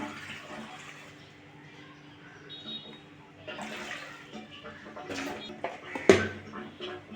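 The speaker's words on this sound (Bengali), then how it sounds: "সামান্য জল দিয়ে দিলাম" Water poured into a pot of washed taro (mankochu) with dried fish before pressure cooking, a soft splashing pour building briefly near the end, close and moderately loud, over quiet kitchen background.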